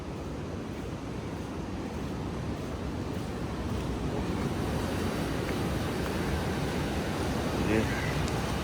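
Surf rolls steadily onto the beach below Varkala cliff in Kerala, a constant broad wash of waves mixed with wind buffeting the microphone, with no distinct breaks.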